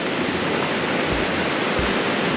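Creek swollen by heavy rain, roaring beside the Denali Highway in Alaska, a dense, continuous rushing wash of water that stays loud and steady throughout.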